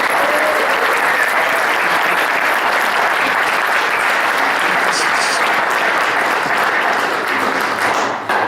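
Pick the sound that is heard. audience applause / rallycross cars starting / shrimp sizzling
audience applause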